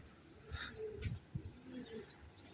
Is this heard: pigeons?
yes